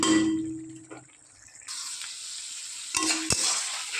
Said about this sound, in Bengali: দিয়ে ভালো করে নেড়ে চেড়ে মিক্স করে নিচ্ছি